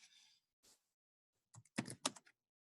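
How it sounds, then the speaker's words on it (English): Someone types a short command on a computer keyboard at a command line: a couple of isolated key taps, then a quick cluster of close, crisp keystrokes in a quiet room. "I can go ahead and type in exit."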